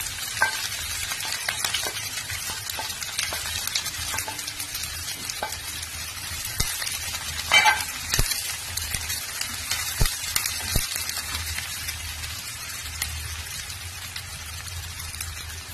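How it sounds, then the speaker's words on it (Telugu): Sliced onions and curry leaves sizzle and crackle in hot oil in a pan, a steady close frying hiss with scattered sharp pops throughout, no voices. "సన్నగా కట్ చేసుకున్న ఆనియన్ వేసేస్తానండి. ఒక 2 రెమ్మలు కరివేపాకు,"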